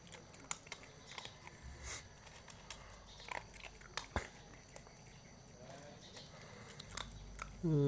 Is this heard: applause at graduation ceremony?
no